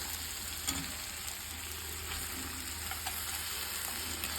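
Crab fried in a pan with green chili and tomato gives a steady, close sizzle and crackle throughout, with a few soft stirring knocks and no talk.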